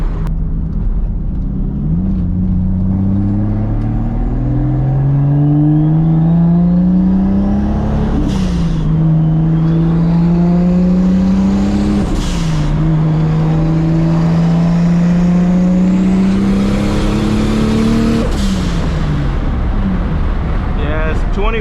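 A straight-piped Toyota Supra running 24 pounds of boost drives with a loud, raspy exhaust whose pitch climbs repeatedly and drops at each gear shift, with wind buffeting the microphone throughout.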